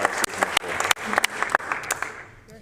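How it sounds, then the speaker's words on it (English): Applause fills a legislative chamber as members clap, with sharp individual claps standing out over a dense patter that tapers off at the end. "we can have a round of applause to show our appreciation"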